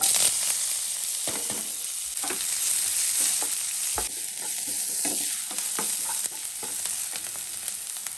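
Chopped onion, mint, coriander, green chilli and curry leaves frying in hot oil for an okra curry, a continuous close sizzle broken by scraping stirs of a spoon in the pan, with no voices.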